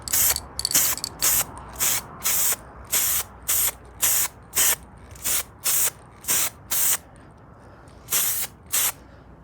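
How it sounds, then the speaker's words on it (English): Short bursts of aerosol spray coating metal parts of a 1955 Chevy truck's rear suspension, close by, about a dozen evenly spaced sprays with brief silences between them. "Now I'm gonna go ahead and spray up this side"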